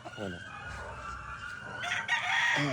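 A Jerry Jenkins 5K sweater gamecock crows once, loud and close, its drawn-out call rising and holding before cutting off.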